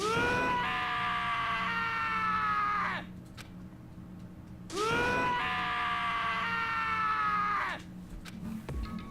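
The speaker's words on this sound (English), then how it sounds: "As Taka's sad screams invaded our skulls, we were each forced to realize once again." Character screaming in the video game Danganronpa, two long anguished wailing screams, each about three seconds, loud and close with a short quiet gap between them.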